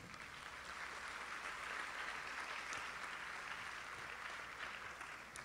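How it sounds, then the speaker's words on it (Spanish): Quiet, steady applause from an audience filling an auditorium at an inaugural class, a dense continuous patter of clapping heard from a distance and holding throughout. "Así que palmas por ustedes."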